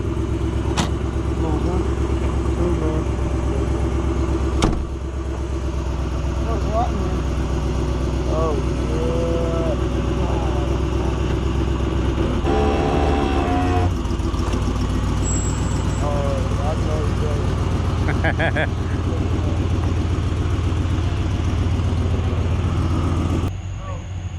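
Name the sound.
V8 car engine idling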